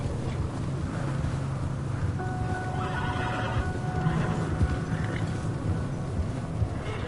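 A horse in Red Dead Redemption 2 whinnies loudly and gallops, hooves thudding steadily under a constant wash of wind and rain in an outdoor storm.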